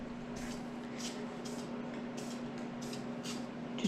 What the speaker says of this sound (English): So I'm just gonna spray this whole thing down before we put filler on it